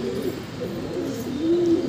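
Low, soft cooing from a red-copper pigeon repeats steadily under a constant background hum, with a slightly louder, rolling coo toward the end.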